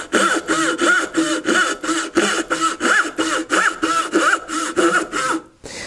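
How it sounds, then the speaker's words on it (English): A dovetail saw waxed with paraffin cuts through wood in about fourteen even back-and-forth strokes, a close, loud, rhythmic rasp that ends with a brief pause. "I like the way the paraffin works with my dovetail saw. It really allows the saw to move through the wood without binding."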